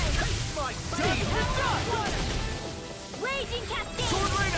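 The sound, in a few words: sword skill attack impacts in Tales of Arise video game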